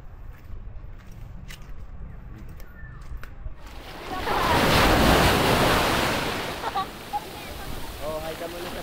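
Sea waves wash onto a beach at Pagudpud, starting as a faint background under wind buffeting the microphone, then one big surge swells loudly and recedes, with brief voices around it.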